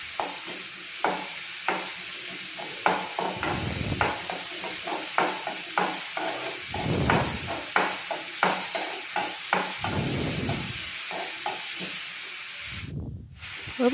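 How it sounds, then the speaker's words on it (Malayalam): Small onions sautéing with a pinch of salt in a pan, a continuous sizzle broken by repeated scraping stir strokes, fairly close, with brief low rumbles in between. "ചെറിയ ഉള്ളി വഴണ്ട് വരാൻ ആവശ്യമായ ഇച്ചിരി ഉപ്പ് കൂടെ ഇട്ട് കൊടുക്കുകയാണെങ്കിൽ പെട്ടെന്നത് നമുക്ക് റെഡിയായി കിട്ടും"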